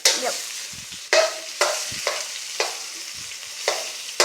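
Fried rice being tossed and stirred in a hot pan, with a spatula scraping in roughly regular strokes about every half second, each stroke followed by a short sizzling hiss, close and clear with no talking.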